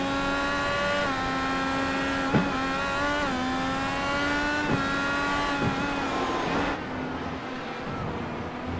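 Race car in the iRacing sim at Road America sliding its tires into turn one, engine droning steadily with harmonic whine and brief scrubbing squeals, then engine note dropping away near the end.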